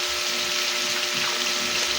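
Water streams steadily into a cooking pot holding crab and squash, a continuous close splashing pour with no break.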